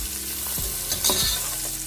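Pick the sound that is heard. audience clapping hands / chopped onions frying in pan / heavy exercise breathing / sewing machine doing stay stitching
chopped onions frying in pan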